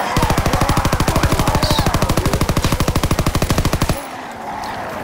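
A Chatellerault LMG light machine gun fires in a WWII video game as one loud, rapid, steady burst of about four seconds, then cuts off to a quieter background hum.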